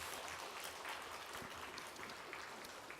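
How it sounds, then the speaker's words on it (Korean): A congregation at a Korean church praise service applauds, a soft, steady wash of many hands clapping that sounds somewhat distant and stays even from start to finish. "영광의 박수를 하나님께 올려드리겠습니다."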